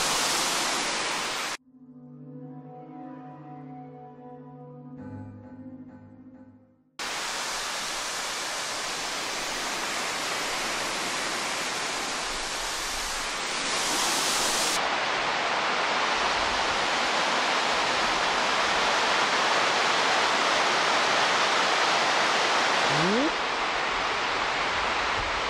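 Tsugane Otoshi waterfall in Nagasaki roars as a loud, steady broadband rush that fills most of the clip, briefly broken early on by a quieter stretch with humming tones.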